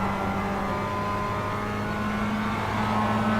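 Mazda MX-5 Cup race cars in the iRacing video game at full throttle on the Nordschleife, a steady loud engine drone with a tonal whine that climbs slightly, no voices.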